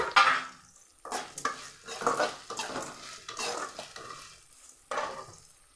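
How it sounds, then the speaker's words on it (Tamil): Chopped chillies stirred and sautéing in a pan while making upma, with bursts of sizzle and scraping spoon strokes against the metal, loud at first and recurring in uneven waves. "இப்போ இந்த கட் பண்ணி வச்ச மிளகாவை போட்டுக்குவோம்"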